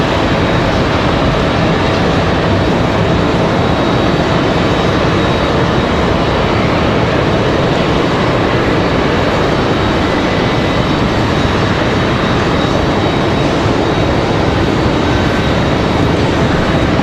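An Embraer E-175 jet sits at Raleigh-Durham International Airport before departure, its engines giving a loud, steady, broadband roar that holds unchanged throughout with no voices.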